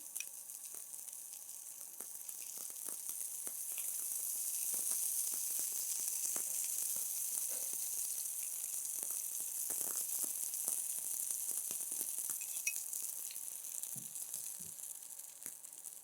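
Rava cheese tikki frying in oil in a pan, a steady high sizzle with scattered faint pops and crackles throughout, continuous and close but fairly quiet, with no one talking.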